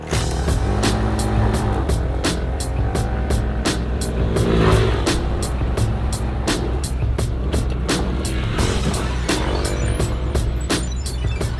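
A Honda ADV150 scooter with chunky tires on 14-inch rims rides over dirt, its engine droning steadily while repeated sharp knocks and rattles from the rough ground punctuate the run, loud and close throughout.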